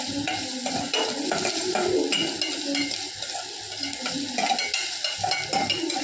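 Onions sautéed and stirred in a hot pan until turning violet, a steady close sizzle with scraping spoon strokes against the metal throughout, no voices.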